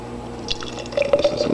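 A smoothie is poured into a glass, a short burst of thick liquid splashing and dripping close by, with wet squishy glugs near the end and no talk.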